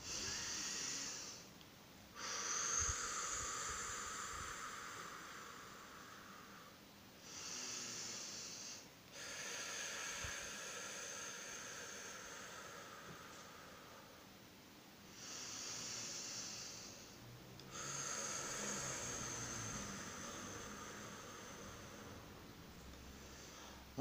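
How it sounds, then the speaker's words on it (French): Three slow, deep breaths are taken during a guided shamanic relaxation, each a long airy inhale and exhale with quiet pauses between, heard close and soft. "On va prendre 3 bonnes respirations bien profondes"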